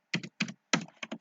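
Keystrokes on a computer keyboard, a few quick clusters of close, crisp clicks with short pauses between bursts, heard alone without talking.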